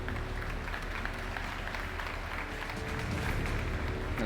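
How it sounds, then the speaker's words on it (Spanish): Steady applause from a crowd, continuous and fairly loud throughout, with no voices rising above the clapping. "Démosle un fuerte aplauso a Lina."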